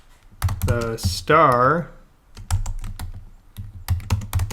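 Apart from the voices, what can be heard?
typing on a computer keyboard to change text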